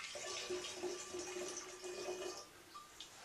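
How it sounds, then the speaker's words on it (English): A honey and water mixture for mead is poured steadily from a pot into a glass demijohn, making a continuous close gurgling trickle that eases off near the end, with no talking. "And pour it into the demijohn."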